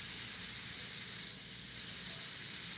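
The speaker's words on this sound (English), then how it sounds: "I'm just going to spray it on light first." An airbrush sprays paint onto a volcano-sunset painting, a steady close hiss of air and paint that holds continuously, with a slight dip midway.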